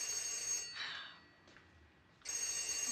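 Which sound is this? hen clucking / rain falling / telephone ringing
telephone ringing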